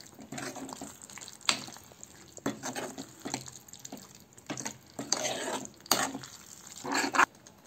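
Tamarind water is stirred into okra kara kuzhambu in a pan, giving soft intermittent swishes, sloshes and light scrapes with a faint sizzle, close and fairly quiet with short pauses between strokes.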